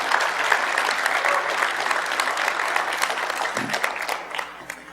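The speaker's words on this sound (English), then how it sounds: "I'm hoping that your strong applause will emphasize how good of a job that I did" An audience at a music-technology talk claps steadily to welcome two speakers to the stage, a dense, even wash of applause that thins slightly at the end.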